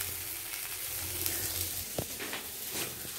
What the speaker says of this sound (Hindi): ये फूल गोभी को थोड़ा सा फ्राई कर ले रही हूँ।